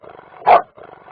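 A single loud, close dog bark stands out clearly in the middle, with faint background sound on either side.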